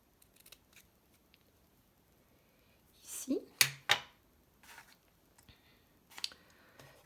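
Scissors cut through paper or card for a handmade tea box, a few short crisp snips clustered together, near and fairly quiet, with brief soft handling noises before and after.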